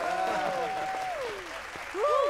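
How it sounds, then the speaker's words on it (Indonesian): Applause in an animated children's cartoon, a steady wash of clapping that runs the whole moment, with cartoon voices and musical tones sounding over it. "Beri tepuk tangan yang meriah"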